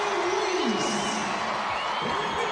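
A basketball arena crowd at a WNBA game between the Mystics and Sparks cheers after a three-pointer, a sustained roar with whoops rising and falling under a commentator's voice.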